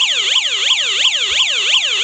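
A siren effect from a sound effects chip played through a small speaker: loud, steady, rapidly repeating electronic whoops sweeping down and back up about three times a second.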